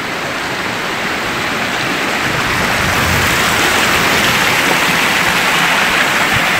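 Rainwater rushing through a flooded street after a brief shower, where the storm drains have not been repaired, a steady loud broadband wash of flowing water throughout with no speech.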